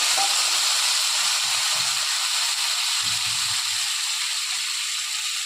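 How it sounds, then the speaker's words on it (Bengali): Water poured over fried potatoes in a hot pan sends up a loud, continuous hiss of steam, with a faint low rumble underneath at moments. "এখন একটু জল দিয়ে দিচ্ছি।"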